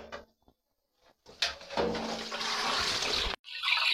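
Tap water gushes into an indoor sink basin while water spinach is washed, a steady close splashing rush lasting about two seconds after some faint handling sounds, then resuming briefly.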